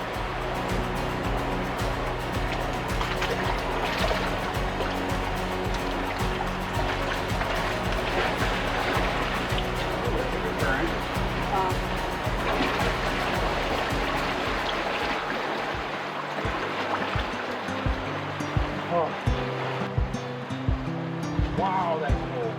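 A river in North Cascades National Park rushes with a steady, dense wash of flowing water throughout, close and continuous, while a voice is faintly present.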